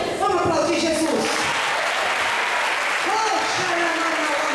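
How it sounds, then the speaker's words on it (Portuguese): A church congregation applauds, loud sustained clapping filling the room, with voices calling out over it. "Vamos aplaudir Jesus."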